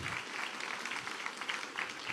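A church congregation at a Foursquare church service in Piracicaba claps steadily, a dense, even wash of applause filling the room throughout.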